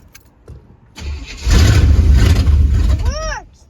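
A Chevrolet K1500 pickup with a crank-no-start fault cranks briefly, then catches and roars loudly to life close by. A short squeal rises at the end as the engine settles.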